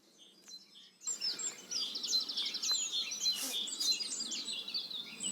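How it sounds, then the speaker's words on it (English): Dawn chorus on Bristol heathland edged by trees: faint, distant birdsong with blackbirds and summer warblers, chirps and short phrases overlapping steadily against a quiet open-air background. "typical maybe garden birds, like blackbirds for example, but also quite a lot of summer warblers"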